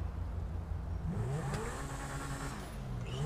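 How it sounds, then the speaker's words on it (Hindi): A gold Lamborghini Reventon in the video game GTA 5, its engine revving with rising and falling pitch, a steady close mechanical drone building toward a high whine. "इस कार की जो ऑडियो है मतलब जो इंजन का साउंड है वो सुनाता हूँ"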